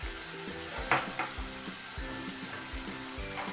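Chickpeas for a Navratri offering fry in a pan with a steady close sizzle, broken by repeated scraping and knocking strokes of a spoon as they are stirred.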